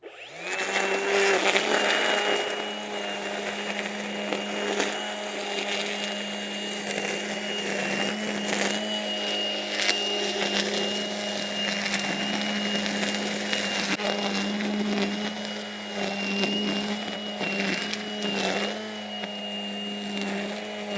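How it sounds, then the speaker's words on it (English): A petrol line trimmer whirs steadily at high revs as it cuts through thick grass, a sustained close engine drone with a constant buzzing pitch and small load changes running through the whole stretch. "We've brought over the line trimmer to try it out on the same sort of thickness of grass."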